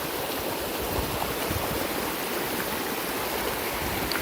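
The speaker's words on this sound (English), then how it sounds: "Creek is flooding again." A flooding creek rushes in a dense, steady roar of turbulent water with no break in the sound.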